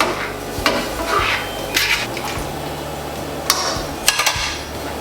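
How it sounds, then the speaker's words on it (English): Arroz con gandules being stirred in a cooking pot with sofrito, culantro, achiote and azafran: wet squishing and soft scraping with occasional clinks of the spoon against the pot, steady and close, with no talk. "I'm gonna mix."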